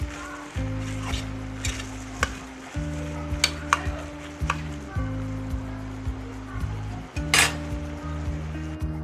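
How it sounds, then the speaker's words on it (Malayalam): Masala stirred into onions in a cooking pan for a Kerala-style chicken curry: a steady sizzle and frying hiss with a low hum, broken by scraping strokes and light clinks of a spoon against the pan, close and moderate. "നമുക്ക് ഈ മസാല ഈ സവാള കൂട്ടിലേക്ക് ഇട്ട് കൊടുക്കാം. നന്നായിട്ട് മിക്സ് ചെയ്യുക."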